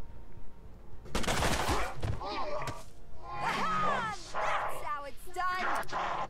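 Gunfire in the video game Mutant Year Zero: Road to Eden, a loud burst of shots followed by further sharp reports, mixed with other game sounds and a voice talking throughout.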